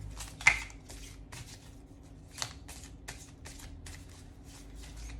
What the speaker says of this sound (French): On va tirer encore une carte de cet oracle.